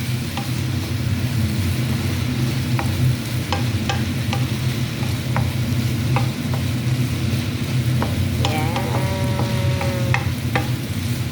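Steady close sizzle and scraping as a meatball and vegetable mixture is stirred in a hot pan, continuous frying hiss with occasional utensil clinks and scrapes against the pan.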